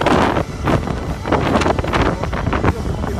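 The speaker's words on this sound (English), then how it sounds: "it's getting a bit dangerous now in this wind" Strong wind roars across the microphone in continuous gusty blasts high on Snowdon mountain, a loud, steady buffeting that swells and dips throughout.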